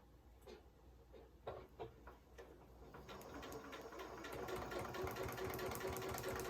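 A sewing machine fitted with a Teflon presser foot stitches vinyl, starting with a few separate mechanical clicks and then settling into a steady, loud, fast whirring hum that continues without voices.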